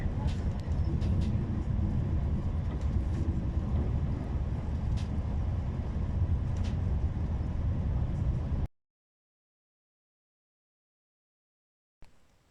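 Train interior on the UK's longest rail journey, a steady low rumble and rattle of the carriage running on after Plymouth, then sudden silence for a few seconds before sound briefly resumes.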